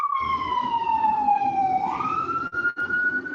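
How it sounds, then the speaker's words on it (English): A fire truck siren wails as the truck heads out, its tone sliding down, then rising again as it carries on loud and steady with no talk over it. "That's the fire truck going out."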